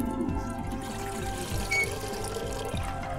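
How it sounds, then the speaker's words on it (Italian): A tap is opened to run water onto a flower, giving a steady, moderately close stream of running water with faint low gurgles throughout, no talking over it. "Dobbiamo aprire l'acqua, perché dobbiamo innaffiare questo fiore qui."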